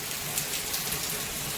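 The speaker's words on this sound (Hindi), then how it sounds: "देख लो कितनी तगड़ी वाली बारिश हो रही है।" Heavy rain pours steadily in a village setting, a dense, constant hiss of drops drumming on surfaces with no pauses, close and fairly loud, with no voices.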